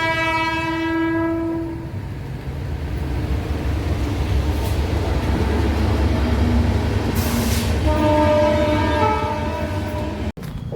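A passing train on a foggy morning in Gujarat, with a loud horn blast at the start and another near the end over a continuous close rumble and rattle of the cars going by.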